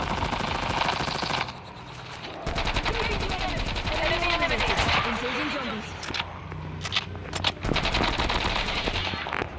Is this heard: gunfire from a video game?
yes